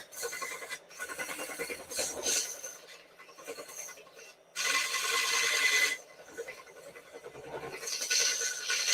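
Wood lathe turning a piece during a live woodturning demo, with rough rasping tool-on-wood bursts that swell and fade in uneven passes, close and moderately loud, without speech.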